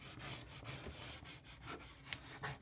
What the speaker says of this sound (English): Burnish it down with these Visa. This is an old credit card.